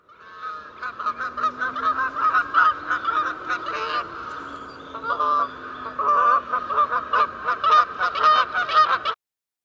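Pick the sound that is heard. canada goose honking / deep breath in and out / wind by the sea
canada goose honking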